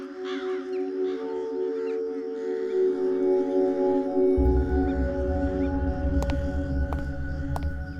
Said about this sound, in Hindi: ये कौवे यहाँ पर ऐसे ही रहते हैं क्या? इनके काँव ने मेरा सिर दुखा दिया है।